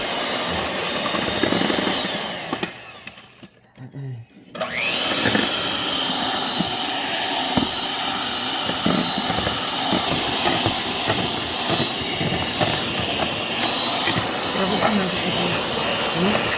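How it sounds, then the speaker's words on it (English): An electric mixer whirs steadily through chocolate chip cookie dough in a kitchen, a close, loud hissing drone that cuts out briefly and starts again, with people talking over it. "now we're going to use the mixer again to blend it together"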